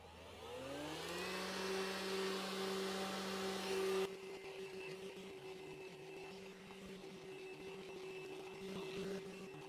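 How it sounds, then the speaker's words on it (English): A VacLife VL726 handheld car vacuum with its motorized head runs with a steady whining motor hum, which shifts to a lower, quieter pitch partway through and keeps droning without speech. "I'm gonna switch to the motorized one and see how well it picks up the dog hair"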